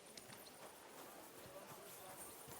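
Horse hooves clip-clopping in Kingdom Come Deliverance 2, a quiet steady rhythm of hoofbeats on the ground, faint and somewhat distant within the game's ambience.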